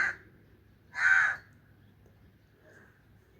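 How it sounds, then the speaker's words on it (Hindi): Crows caw outside in the early morning near a home kitchen, two or three separate calls, one clear and fairly close, the others fainter, with long quiet gaps between. "कौवे आ गए सुबह सुबह।"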